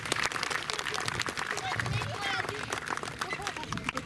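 An audience claps for Pirate, a performing dog, at a rural fair in Compiègne, steady dense applause running under someone talking over a loudspeaker.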